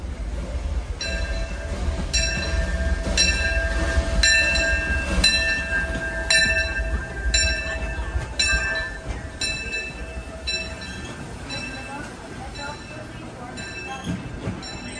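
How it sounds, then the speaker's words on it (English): A train pulls into the Disneyland railroad station, its low rumble steady throughout while bright, evenly spaced bell or horn tones ring out above it, fairly near and loud, with people talking faintly in the background. "There's a train. I could hear it, but it's coming in."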